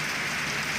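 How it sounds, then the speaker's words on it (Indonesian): Steady rain pouring down during a downpour while sheltering, a dense, even hiss of drops on surfaces with no letup and no voices. "hujannya biar selesai dulu ini."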